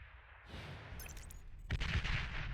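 Pounder artillery units firing in the strategy game Beyond All Reason: a short volley of booming shots that swells louder near the end, with no talk.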